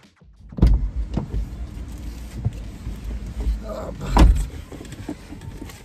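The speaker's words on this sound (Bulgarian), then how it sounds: "сега фащам колата и тръгвам" Car door thuds and rustling movement while someone gets into a car, with an electric window motor whirring between the close, fairly loud knocks.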